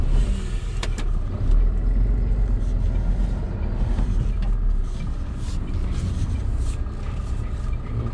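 A MAN TGM 15.250 lorry reverses, its diesel engine rumbling loud and steady at close range throughout, with faint clicks and clatter over the top.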